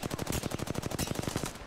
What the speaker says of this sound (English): we were getting shot at from the side, weren't we?